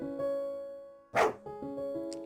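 In the game A Week, a dog gives a single short, loud bark that cuts over soft, sustained background music.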